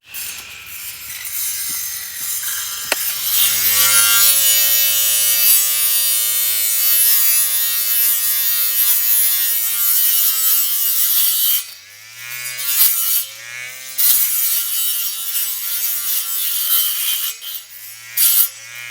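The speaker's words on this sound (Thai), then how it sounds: "ใบเลื่อยวงเดือนนะคะ เขาเหมาะกับการตัด กิ่งไม้ได้เลยนะทุกคน" A battery-powered grass cutter fitted with a circular saw blade whines loudly as it cuts through tree branches, a steady high-pitched buzz that holds for several seconds, then drops and surges in short bursts as the blade bites the wood.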